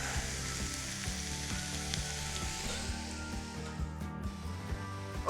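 Steak sizzling as it fries on a propane gas grill at a campsite, a dense continuous hiss with faint low crackles, steady and close throughout with no talk.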